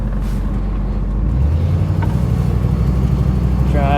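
A 1962 Ford Thunderbird with a coolant leak, transmission leak and spongy brakes drives along, a loud steady low engine rumble and road roar filling the cab, with the engine note rising slightly partway through.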